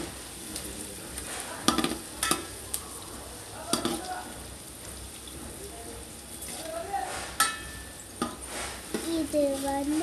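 Ingredients for mutton biryani sauté in oil with a constant soft sizzle, punctuated by several sharp scraping and clanking stirs against the pot, while people talk over the cooking.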